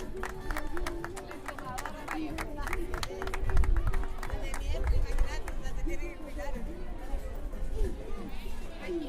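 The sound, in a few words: crowd applause at carnival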